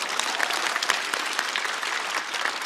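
A studio audience at a comedy roast show breaks into a burst of steady, dense applause, with many hands clapping together at an even level for the whole moment.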